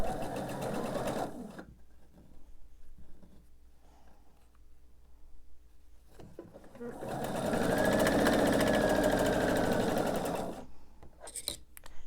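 A sewing machine runs a quarter-inch seam on a quilt block, pinned to keep the points. There is a short burst at the start, then a quieter stretch with talking, then a longer steady whir of stitching near the microphone for about three seconds.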